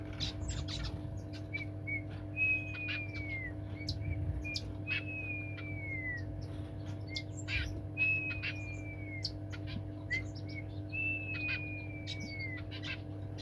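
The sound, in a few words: grass finches singing back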